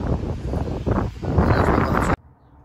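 Strong outdoor wind buffets the microphone in a loud continuous rumble for about two seconds, then cuts off abruptly to near silence.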